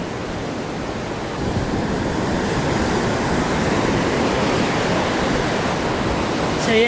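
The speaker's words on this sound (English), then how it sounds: "So we just all went in those waves." Ocean waves break continuously on a beach in Sri Lanka, a steady, loud and broadband roar of surf with no speech over it.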